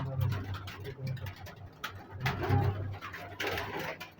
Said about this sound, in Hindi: ये आप देख रहे हैं ऊपर कबूतर, अच्छे कबूतर हैं सारे और प्रवासी कबूतर हैं